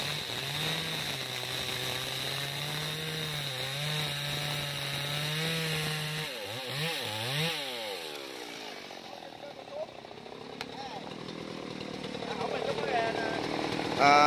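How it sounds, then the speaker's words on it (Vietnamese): A chainsaw roars steadily up close, its engine pitch rising and dipping as it bites through a large tree trunk, running continuously for the whole stretch. "bây giờ anh cưa cho đứt luôn nha các bạn"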